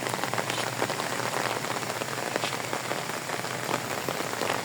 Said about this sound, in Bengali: বৃষ্টিটা এমনভাবে পড়ছে